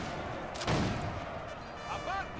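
Musket volleys crackle across a Napoleonic-era battlefield in Napoleon Total War, a dense burst of shots near the start over a constant din of battle, with a faint voice briefly audible beneath.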